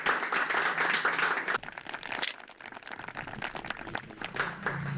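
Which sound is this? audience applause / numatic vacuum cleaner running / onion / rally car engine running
audience applause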